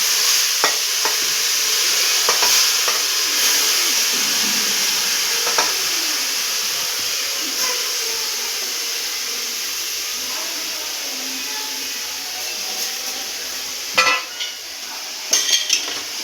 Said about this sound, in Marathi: याला फास्ट गॅसवर चांगलं तुपामध्ये परतून घेऊया.